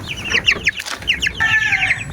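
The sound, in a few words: chicks (sisiw) clucking in their coop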